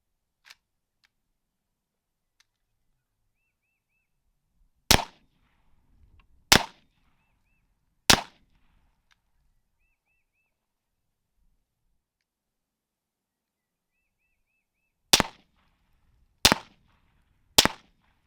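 Six sharp gunshots from a PSA 5.56 AR pistol in Krink style, loud and isolated, fired in two groups of three with long silent gaps between them.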